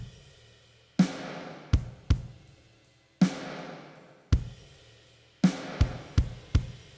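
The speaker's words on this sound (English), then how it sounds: "So all the drums together sound like this." A full drum kit plays with crash cymbals and heavy reverb: sparse, loud hits, each followed by a long washy cymbal decay, several struck in quick bursts, close and without voices.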